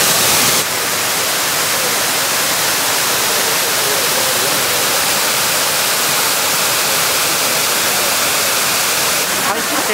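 Shiraito waterfall in Karuizawa pours continuously, a dense, loud, steady roar of falling water filling the whole scene without a break.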